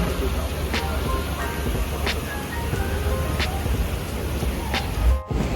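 Steady, soft hiss of light drizzle outdoors at a station in the Netherlands, with faint intermittent ticks and a low background rumble.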